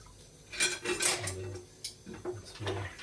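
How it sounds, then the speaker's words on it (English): Dishes washed by hand at a sink, with plates, pots and cutlery clinking and clattering in a quick, irregular series of nearby knocks over steady background noise. "my only use in life, doing the dishes."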